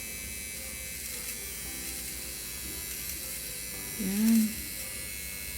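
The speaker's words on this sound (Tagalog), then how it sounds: "So, may shaver na ako. Eyebrow shaver." A small electric eyebrow shaver hums with a faint, steady buzz throughout, while someone speaks briefly over it near the end.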